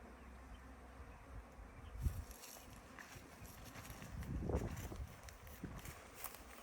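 Bees buzz around a newly installed beehive at an old colonial inn, a steady low hum close by with soft handling noises and a brief louder rustle midway, no talk.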